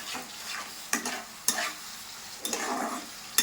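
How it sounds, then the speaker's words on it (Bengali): Spices with turmeric stir-fried in a pan with potato about to go in: a steady soft sizzle broken by several sharp scraping strokes of a spatula against the pan, close and clear, with no talk. "এরপর আমি এটা কষাতে থাকবো"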